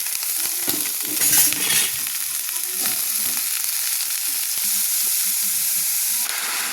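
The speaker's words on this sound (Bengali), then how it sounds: "পেঁয়াজটা ভাজা ভাজা হয়ে গেছে। এবার লাউয়ের খোসাটা দিয়ে দিলাম।" Bottle gourd peel fries in a pan with onion, garlic, chilli and five-spice, a loud continuous hiss and sizzle with scattered crackles and a stirring burst near the start.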